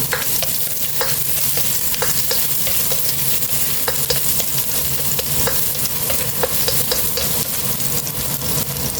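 Garlic fries in oil in a pan for pancit, a loud constant sizzle with rhythmic spatula scrapes and stirring, close up and without talk.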